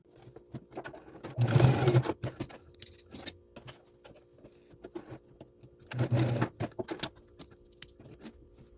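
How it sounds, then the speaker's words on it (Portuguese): Sewing machine stitching a shoulder pad into a blazer lining, two short bursts of rapid mechanical stitching separated by quiet handling clicks and taps, recorded close. "Mas eu vou fazer na máquina porque é bem mais rápido. Então, eu vou na máquina, dou um pontinho aqui, aqui e aqui."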